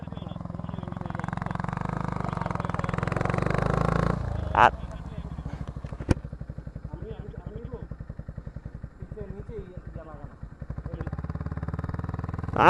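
A motorcycle engine revs hard at first, then drops after about four seconds into a steady, rapid putter as the bike rides in first gear. Two sharp clanks punctuate the run, and the engine rises again at the end.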